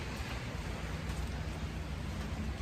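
Steady rain falling outdoors in the morning, a dense continuous hiss of drops with no breaks, moderately loud and unaccompanied by talk.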